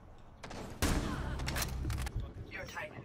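Video game gunfire crackles in a short burst of rapid shots partway through, mixed with players chatting over voice chat.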